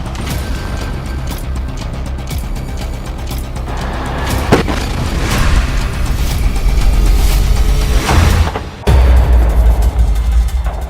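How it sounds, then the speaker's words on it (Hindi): Heavy booms and rumbling blasts from Hamas rockets striking Israeli tanks in Gaza. The din is loud and dense, with a sharp crack midway and deep, sustained low rumble throughout. "हमास के रॉकेट इजरायली टैंकों के हैच वाले यानी ऊपरी हिस्से पर सीधा हमला कर रहे हैं"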